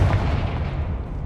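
Confringo spell explosion in Hogwarts Legacy, a single loud, deep booming blast that rumbles and fades over about a second.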